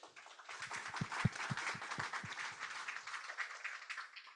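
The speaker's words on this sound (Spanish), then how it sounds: "yo en realidad pido el mismo aplauso para Santiago, por varios motivos." Audience applause at a book presentation, fairly faint and steady, with a few distinct nearby claps standing out early on.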